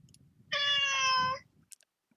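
A single clear cat meow, drawn out for about a second, close and loud, with faint background noise and a small click afterward.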